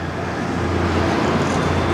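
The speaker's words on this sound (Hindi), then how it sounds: "sorry for the background noise क्योंकि बहुत ट्रैफिक है इधर" Heavy road traffic in Mumbai drones as a constant dense wash of engines and tyres from passing cars and buses, loud and unbroken, with no one speaking.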